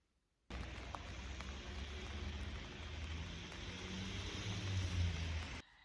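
Steady rain falls in a continuous broadband hiss that starts abruptly and holds even to the end, with a low rumbling undertone beneath it and no voices.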